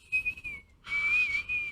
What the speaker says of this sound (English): I heard if you whistle in the cup, it actually increases the flavor